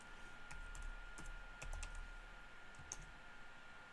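Keys clatter in bursts on a computer keyboard while a pinout diagram is typed in, a quiet, uneven patter of clicks close by with no talking.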